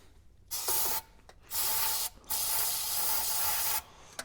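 Aerosol fluid hisses into the carburetor throttle of a 1965 Chevy rollback truck engine in three close bursts, the longest lasting over a second, with short pauses between.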